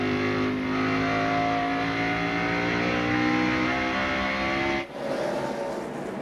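NASCAR race cars roar around the track in a loud, steady, continuous drone of engines, with a brief dip near the end before the engine noise resumes; no talk is heard.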